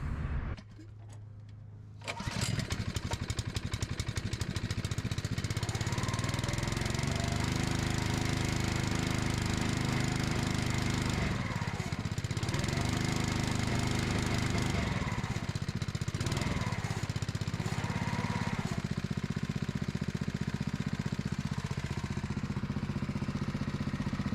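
A Permagreen Magnum engine on a lawn mower starts and runs steadily, a loud, close, continuous drone with slight wavering in pitch and no talking.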